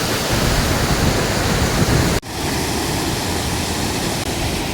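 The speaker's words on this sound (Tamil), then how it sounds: "தண்ணி அப்படியே ஆர்ப்பரித்து கொட்டிகிட்டு இருக்கிறத நீங்கள் பார்க்கலாம்." Waterfall water roaring as it pours down, loud and steady broadband rush with a brief dip midway, no voices.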